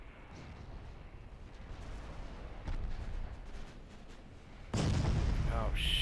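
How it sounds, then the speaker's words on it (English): Naval gunfire rumbles through a battle in the warship game Ultimate Admiral Dreadnoughts, low booms under faint voices, then a loud sustained barrage bursts in near the end. "That's a lot of gunfire."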